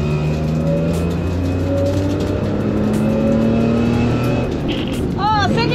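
Engine of a home-built endurance race car, loud and close, droning steadily with shifting harmonic pitch as it revs throughout, with a brief higher squeal near the end.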